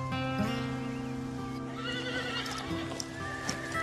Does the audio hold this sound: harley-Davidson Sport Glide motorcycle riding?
no